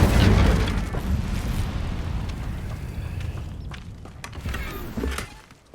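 A loud fiery burst from the Incendio fire spell in Hogwarts Legacy erupts at the start, then a crackling rush of flame fades over several seconds, with a few sharp pops near the end.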